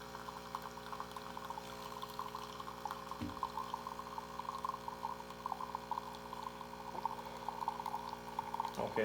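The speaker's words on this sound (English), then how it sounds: "the coffee is just flowing out of there" Freshly brewed coffee flows out of a coffee maker in a thin, steady trickling stream over a low mains hum, with a couple of brief clicks and knocks nearby.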